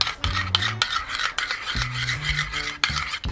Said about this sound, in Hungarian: amikor simára kevertük ezt a tejfőt